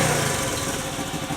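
A homemade motorcycle's engine idles steadily and close by after a long stretch of not running, a continuous light mechanical drone with a fast even pulse.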